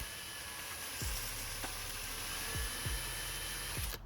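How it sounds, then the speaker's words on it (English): A power drill fitted with sandpaper sands a wooden cutout, running steadily with a high whine and rough grinding, a few short thumps and scrapes breaking through the drone. "Then you just take your sandpaper, okay?"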